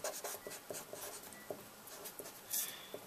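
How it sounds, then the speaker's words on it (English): A pen writes out a physics solution in a steady series of close scratching and tapping strokes, short marks following one another at an even pace. "Just write it again."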